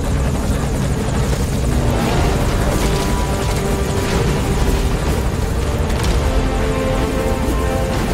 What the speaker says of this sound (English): And there's our chopper.